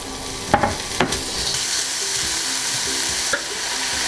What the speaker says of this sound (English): Let's start sauteing pork.